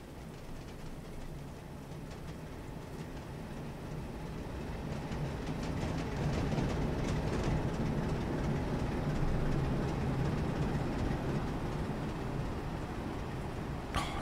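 A diesel multiple unit train in Train Simulator 2019 on the East Coast Main Line rumbles along steadily in the rain, a continuous low engine drone with rail noise that swells slightly louder midway and holds.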